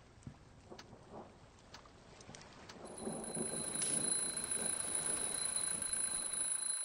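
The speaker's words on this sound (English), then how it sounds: "It's an alarm clock." An alarm clock in the video game The Dream Machine starts ringing partway through: a steady, continuous high electronic tone that cuts in over rain and rumbling thunder ambience and keeps sounding to the end.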